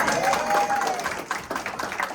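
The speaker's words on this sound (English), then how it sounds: "Let's give a round of applause." An audience claps at a community performance event in Lambeth, a loose, moderately loud round of applause mixed with crowd voices and a brief whistle-like tone early on.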